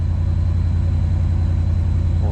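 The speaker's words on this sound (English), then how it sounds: "We're running. We'll let it come down off high idle here in a few moments, and then we'll shut her down." A 2012 Ram 1500 with a Hemi V8 runs at high idle after its ignition node was replaced, giving a loud, steady, even engine drone with a constant low rumble and no change in pitch.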